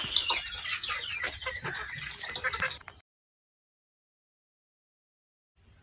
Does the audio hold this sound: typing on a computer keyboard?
no